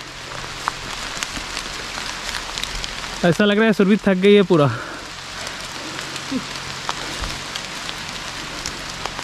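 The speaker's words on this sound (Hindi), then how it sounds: "बहुत तेज हो रही है बारिश।" Heavy rain pours steadily during a trek near Nainital, a constant broadband hiss lasting throughout, with a short burst of a person talking near the middle.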